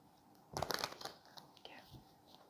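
A deck of tarot cards gets one final quick shuffle up close: a short burst of soft riffling and card flutter, then scattered light crinkles and taps, all fairly quiet.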